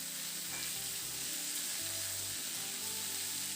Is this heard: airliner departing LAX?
no